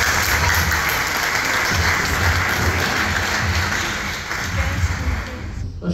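A festival audience in Antakya applauds directors coming onto the stage, dense sustained clapping from a crowd that tapers off near the end, with voices mixed in.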